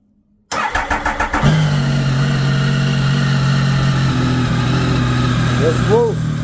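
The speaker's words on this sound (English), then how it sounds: "I'll fire it up now before I put the cover on." An engine cranks over with several rapid starter pulses after near silence, then catches and settles into a loud, steady idle close by; a voice briefly speaks near the end.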